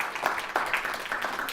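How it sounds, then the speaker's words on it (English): A small audience at a networking event in Newport claps, the scattered, uneven hand claps sounding soft and close with no talk over them. "So I'd like to give Lewis a big round of applause for that."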